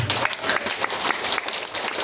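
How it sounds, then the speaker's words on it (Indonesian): Applause from a live audience at a motivational training session, a dense steady wash of many hands clapping at close range that fills the whole stretch without letup. "Tepuk tangan dulu dong."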